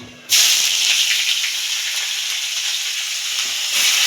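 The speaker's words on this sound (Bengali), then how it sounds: "কালো জিরা ফোড়ন দেওয়ার পর দিয়ে দেবো পেঁয়াজ কুচি" Black cumin seeds and chopped onion hit hot oil in a pan with a sudden loud sizzle that settles into a steady, close frying hiss over medium heat and carries on unbroken.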